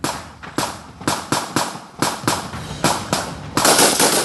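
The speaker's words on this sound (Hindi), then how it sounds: "तभी गोलियों की आवाज आती है" A rapid series of sharp gunshots from army commandos in a firefight, about ten cracks in uneven bursts, loud and close, ending in a denser volley.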